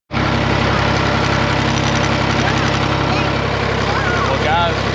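A tractor engine runs at a homestead, a steady, loud, close diesel drone with deep low rumble that holds without a break for the whole stretch.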